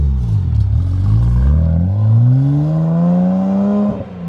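A BMW E92 335i on coilovers pulls away, its engine note rising in a smooth, loud rev that climbs and holds before tapering off with a faint clatter as the car moves off, heard close from outside.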